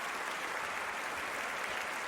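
Crowd applause in the London 2012 Olympic Games video game, a dense, continuous wash of clapping and cheering at steady moderate loudness with no pauses.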